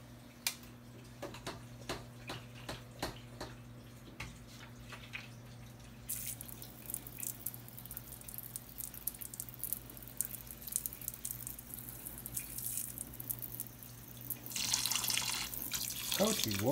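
Running tap water while washing a pet monitor lizard in a sink, starting as scattered drips then becoming a steady stream that grows louder and rushes near the end.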